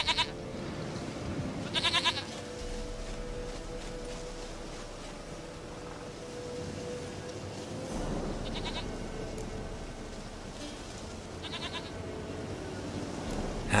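In The Witcher III, a goat gives short, nasal bleats at intervals: a quick pair at the start, then several more spaced through a steady bed of low ambient game sound.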